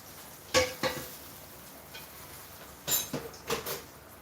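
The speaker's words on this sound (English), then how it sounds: "Dump all the oil out." A pan clatters and scrapes in a few short bursts as cooking oil is dumped out, with quiet gaps between the clanks.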